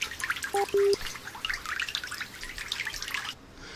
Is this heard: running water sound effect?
yes